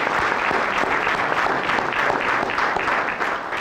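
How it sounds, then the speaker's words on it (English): A dense, steady burst of applause from a large crowd, many hands clapping at once without a break. "so we can give them a round of applause."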